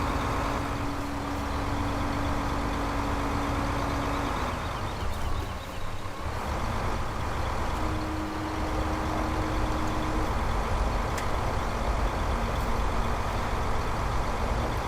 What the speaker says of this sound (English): the tractor is actually performing very well. It can pull this plough very easily in 4-wheel drive